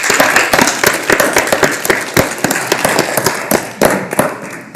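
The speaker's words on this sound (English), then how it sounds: "A round of applause for our contestants." Audience applause for contestants at the 145th annual Robert Burns celebration: sharp, uneven claps rattle close and loud throughout, with no voices.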